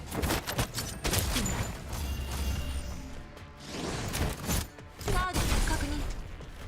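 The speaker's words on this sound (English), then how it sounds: "That was a good grenade." Explosive grenade blast and bursts of gunfire in the video game Girls Frontline 2, a dense, loud barrage of crashing shots and impacts that swells and dips across the stretch.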